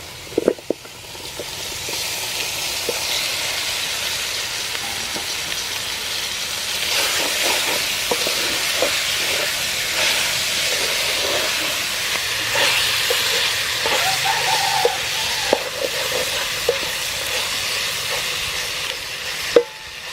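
Beef added to a pot of stew with salt and sugar, heard as a steady, hissing sizzle up close with a few sharp clatters and pops. It continues for about twenty seconds with no talking.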